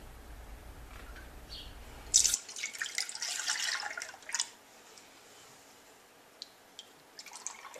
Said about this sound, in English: I want to put 2½ cups of this into a saucepan